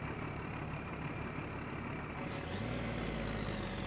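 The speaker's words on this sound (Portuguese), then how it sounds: "Primeiro rolê de caminhão oficial, hein?" A truck drives along a highway in My Winter Car, a steady loud engine and road roar running throughout with a brief hiss partway through.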